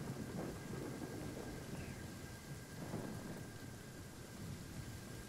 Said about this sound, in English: Just like right now on Genshin, it's been pouring.